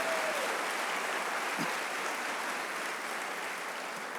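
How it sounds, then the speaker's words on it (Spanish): A church congregation at a Spanish-language morning service applauds itself, producing a steady, dense wash of clapping that holds at an even loudness for several seconds with no talking over it. "Dense un aplauso a ustedes en esta mañana"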